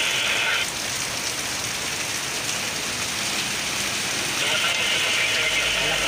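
Heavy rain pours in a dense, steady hiss over a road in Tagaytay, broad and unbroken throughout, with a faint engine hum underneath.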